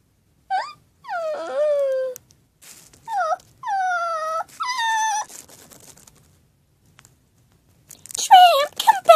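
A dog in an animated Schleich horse-stable scene gives several drawn-out whining, howling wails with pauses between them, loud and close, ending in a rougher burst of yelps.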